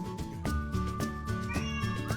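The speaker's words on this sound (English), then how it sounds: "There's a cat." A cat meows repeatedly, several drawn-out, rising calls in quick succession, close and clear with no talking.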